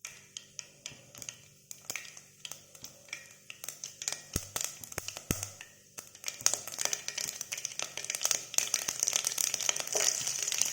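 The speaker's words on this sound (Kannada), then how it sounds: "ಇವಾಗ ಒಗ್ಗರಣೆಗೆ ಆಯಿಲ್ ಹಾಕೋತಾ ಇದ್ದೀನಿ ಆಯಿಲ್ ಬಿಸಿ ಆಗ್ತಿದ್ದಾಗೆ ಸಾಸಿವೆ ಹಾಕಬೇಕು ಅದಾದಮೇಲೆ ಗಾರ್ಲಿಕ್ ಹಾಕ್ಕೊಳ್ಳೋಣ" Mustard seeds and garlic sizzling in hot oil for tempering, with sharp scattered pops and crackles that grow denser and louder toward the end, close and with no talk.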